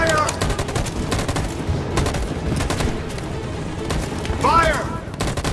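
Rapid gunfire from the video game Detroit: Become Human crackles in dense, loud bursts of repeated shots, with a brief voice rising over the volley near the end.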